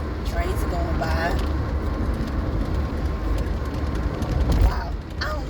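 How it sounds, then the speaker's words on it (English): Trains roll past on a rail line, a loud continuous rumble with squealing and clanking wheels close by, while people talk over it. "trains are going by"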